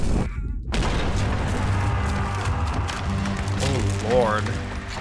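A cannon fires aboard the ship in Return of the Obra Dinn, giving a loud boom over a busy game soundscape with mechanical clatter and a rising tone afterward.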